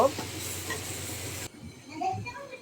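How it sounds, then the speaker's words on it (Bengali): Boiled pasta is stirred in a hot pan with a steady sizzling hiss for about a second and a half, then it drops to quieter, softer movement noises. "এবার এটাকে ভালো করে নেড়ে দেব"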